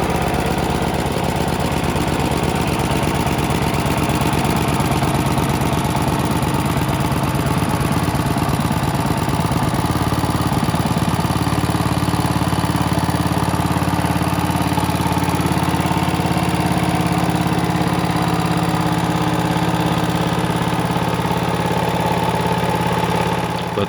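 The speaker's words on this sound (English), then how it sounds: "The first start, using a rope starter," Restored WWII SCR-543 (BC-669) radio set generator engine started with a rope starter, running as a loud, steady small-engine chug with a rough, knocking idle that holds throughout.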